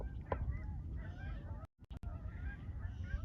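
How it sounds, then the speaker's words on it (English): Geese in big flocks honk in the open air, a scattered series of calls with faint background noise and a brief dropout midway. "big flocks of geese have been flying over here"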